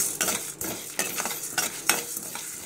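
Cumin seeds and two dried red chillies frying in hot oil on low heat: a steady close sizzle broken by repeated scraping stirs of a spoon in the pan, about once every half second, no voices.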